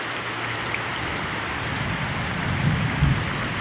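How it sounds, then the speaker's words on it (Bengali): Heavy rain pours down steadily in a dense, even hiss, with a low rumble swelling faintly toward the end and no voices. "প্রচুর বৃষ্টি হচ্ছে আমাদের এখানে।"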